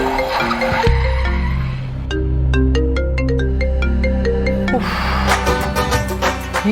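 A mobile phone rings loudly and close by with a repeating electronic melody, its tonal jingle continuing and then swelling near the end.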